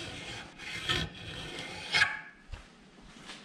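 A hand file rasps against the camshaft bearing of an aircooled VW engine case in a few short, deliberate strokes, close by and fairly quiet, with no speech.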